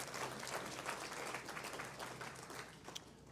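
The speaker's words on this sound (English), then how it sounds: "please give Sister Mary another big, big round of applause" A ceremony audience gives continuous, fairly quiet applause, dense clapping that holds evenly and then eases slightly at the end.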